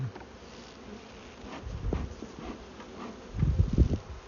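Agitated honeybee swarm being transferred into a new hive, a faint continuous buzzing hum close by, with soft low thumps and handling noises rising toward the end.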